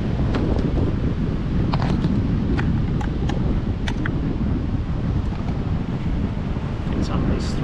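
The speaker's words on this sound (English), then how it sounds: "Wind's making it a bit tricky." Steady wind buffets the microphone on an Australian beach, a loud continuous roar with surf beneath it, and brief clicks and taps of fishing gear scattered through it.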